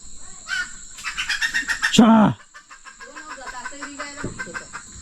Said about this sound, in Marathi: पाठीमागे कोंबडी ओरडते कदाचित मुंगूस आला असेल